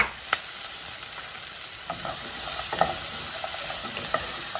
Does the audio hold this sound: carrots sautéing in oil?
yes